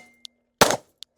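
Glock pistol fired once, a single sharp broadband blast lasting a fraction of a second, with faint metallic clinks before and after.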